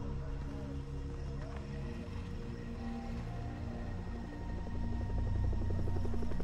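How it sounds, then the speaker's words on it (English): A helicopter in the jungle shooter game Far Cry 3 drones steadily with a heavy rotor thrum and engine whine, growing somewhat louder toward the end, with no talk over it. "Oh, that's a helicopter."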